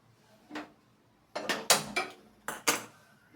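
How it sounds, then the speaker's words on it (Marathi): A cooking pot is set down on a gas stove with several sharp metallic clanks and knocks, one alone and then a quick cluster, close and fairly quiet. "आता आपण गॅसवर पातेला ठेवू"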